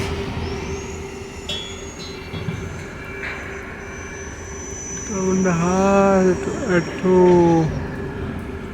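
A very large train passes close by with a steady low rumble, then loud, drawn-out horn blasts rise over it near the end.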